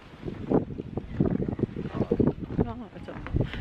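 Gusty wind buffets the microphone in rough bursts at a beach, with a faint voice and a brief whistle-like tone partway through.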